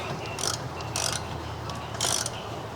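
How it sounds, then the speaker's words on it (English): Large ratcheting wrench with a 15mm short socket tightening the caliper retaining bolts on a 2015-2018 Ford Fusion during a rear wheel hub bearing job: three short, close ratchet clicking bursts over a steady background hum. "Using the large ratcheting wrench with the large 15mm short socket, tighten the caliper retaining bolts."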